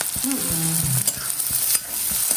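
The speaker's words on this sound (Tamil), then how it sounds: "வெங்காயம் வதங்கட்டும்." Sliced onions sizzle in hot oil in a pan for a Kongu-style keerai kadayal, with a spoon scraping and stirring through them in a few close, brief strokes.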